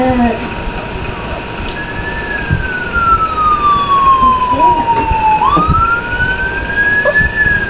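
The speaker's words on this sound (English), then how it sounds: "You hear the siren?" A police siren wails nearby, a loud sweeping tone that slowly falls and then rises again, over steady low background rumble and some faint voice-like sounds.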